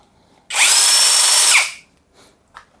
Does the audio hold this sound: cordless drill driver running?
yes